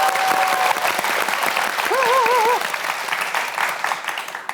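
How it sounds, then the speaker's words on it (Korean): Audience applause at a televised Korean broadcast celebration as a traditional singer takes the stage: dense, sustained clapping from a large crowd that swells then gradually thins, with a brief sung or spoken phrase over it. "여러분, 여러분의 큰 박수로 맞아주십시오."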